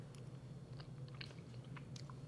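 Someone bites into roast Greek-style spatchcocked chicken, and faint, close, moist crunches and chewing sounds come in short bursts over a low steady hum.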